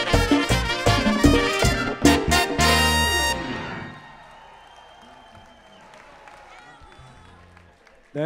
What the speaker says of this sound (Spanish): Esos aplausos nos motivan a nosotros